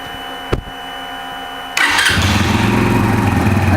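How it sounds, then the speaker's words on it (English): A Brixton motorcycle engine starts nearby: a sharp click, a short lull, then the engine catches and settles into a loud, steady idle. No one speaks. "So let's try to start the bike and see what happens."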